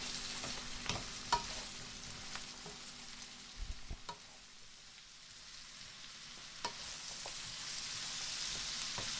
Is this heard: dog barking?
no